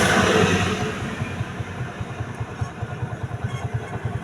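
Engine of a heavily smoking vehicle running rough, a loud low chugging rumble with a rapid uneven pulse that fades slightly as it continues, no talking.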